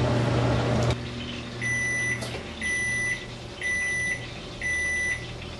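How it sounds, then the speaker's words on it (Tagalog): A kitchen oven timer going off while beef bones roast for pho, four evenly spaced electronic beeps over a steady appliance hum, close and clear, with nobody talking. "Natapos na yung ating timer,"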